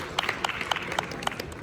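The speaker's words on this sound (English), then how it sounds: "A big round of applause for Tony." Sparse, distinct handclaps from a small audience at the African Tech Summit as a speaker is welcomed onto the stage, with separate claps spread unevenly over a low room background.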